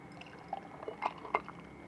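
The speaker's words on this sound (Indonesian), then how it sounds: "Siram ke gelasnya." Vanilla milkshake is poured into a glass, faint liquid trickles and a few soft splashes and drips, quiet and close.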